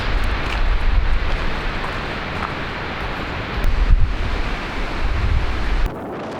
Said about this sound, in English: Sun again, and it's windy.